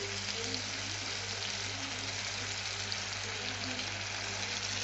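Turmeric stirred into hot oil in a pan for a potato and pointed gourd curry, giving a steady, soft sizzle with a low hum beneath and no clear individual scrapes.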